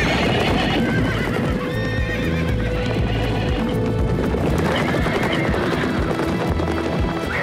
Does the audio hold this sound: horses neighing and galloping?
yes